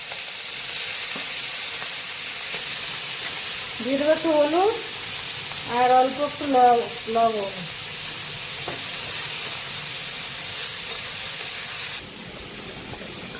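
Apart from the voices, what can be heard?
prawns frying in hot oil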